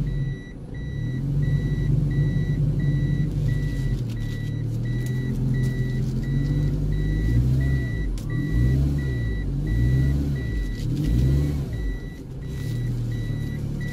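A car backs out of deep mud in reverse gear while its reversing beeper repeats at a steady rhythm. The engine rumbles close and loud and revs in waves as the wheels strain. No voices are heard.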